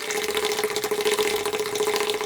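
Cream with vanilla sugar being whipped for Oreo ice cream, likely with an electric mixer: a steady close whirring hum with a constant whine and wet churning swish throughout, no voices.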